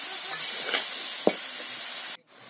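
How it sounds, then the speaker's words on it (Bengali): Boiled jackfruit frying in oil in a pan, with a steady broad sizzle and a few sharp scrapes and clacks as it is stirred, ending in a brief drop to near silence. "এবার ভালো করে নেড়ে চেড়ে দিচ্ছে।"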